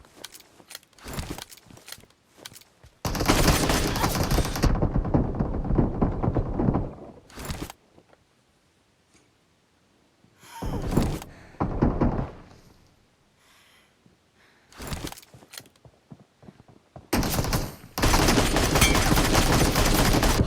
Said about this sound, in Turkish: Sağa sıkıyorum Yusuf solda.